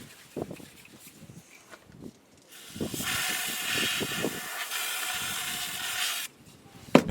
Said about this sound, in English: So I'm going to start it with some brake cleaner in the intake pipe.